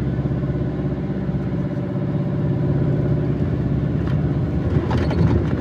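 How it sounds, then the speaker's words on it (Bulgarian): A truck engine drones steadily at low pitch as the vehicle is driven along a narrow alpine road, a continuous rumbling hum with no breaks and a slight rise in loudness midway. "Карам си камиона"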